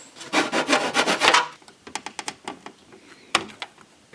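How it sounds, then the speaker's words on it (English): Sharp hobby knife carving notches in a plastic Millennium Falcon model part: a quick run of rhythmic close scraping strokes, then sparser separate clicks and scrapes. "And to cut those out, I'm just taking a sharp knife"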